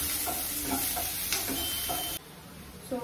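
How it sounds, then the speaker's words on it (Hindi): Sliced onion frying in a kadhai over roasted garlic, a close, full sizzle with intermittent stirring clatter that drops to a quieter hiss near the end. "ये गार्लिक भून लिया है, अब इसमें डाल देंगे ये प्याज"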